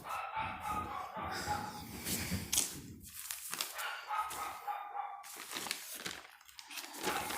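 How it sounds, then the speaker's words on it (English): A dog barks repeatedly outside during a lecture, loud sharp yaps in irregular bursts, with a rooster-like crowing call mixed in, heard alone without speech. "I don't know why it is barking like anything."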